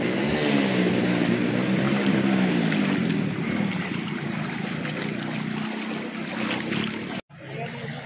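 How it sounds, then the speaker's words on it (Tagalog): Strong, fast flood water rushes through a typhoon-flooded street in Balagtas, Bulacan during high tide, a loud continuous roar close by with no talking. "malakas po yung karan ng tubig. Malakas po yung agos na yun."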